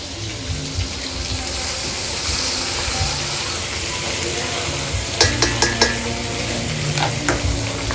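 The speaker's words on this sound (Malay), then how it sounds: "Kita tumiskan kita punya belada." Chili paste sautés in a pan for kampung-style fried rice, a loud continuous sizzle with stirring and scraping, and a run of sharp clanks of the spatula against the pan near the end.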